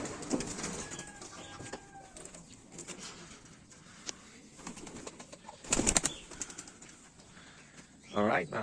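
Racing pigeons returning to the loft after a winter race toss give soft coos and wing flaps at close range, with bursts of flapping and someone speaking intermittently.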